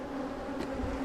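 Honey bees buzz around an opened hive during a winter yard inspection, a steady close drone that hums on with no voices.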